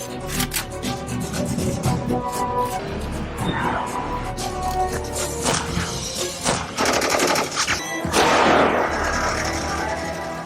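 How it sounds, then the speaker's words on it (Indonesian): Rapid bursts of gunfire from a film crackle and pop across the whole stretch, mixed with booms and dramatic score, dense and loud with overlapping shots. "Tidak lama anak buah Abu Hamzah yang lain berdatangan lalu menembaki semua polisi yang tengah upacara."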